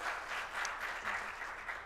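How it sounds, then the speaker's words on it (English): At a business conference the audience gives a round of applause, steady continuous clapping from many hands in a large room, with no voices over it. "let's give yourself a round of applause"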